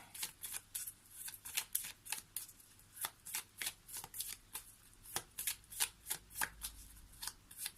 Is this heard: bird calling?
no